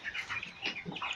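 A flock of 253 young chickens on a poultry farm chirps and clucks in overlapping close calls, a busy continuous chatter of many birds.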